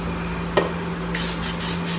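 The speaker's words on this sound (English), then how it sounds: "Spray some olive oil" Short hiss of olive oil sprayed from a can into a mixing bowl during pizza dough prep, a brief burst after a small clink, close and alone with a steady low hum behind it.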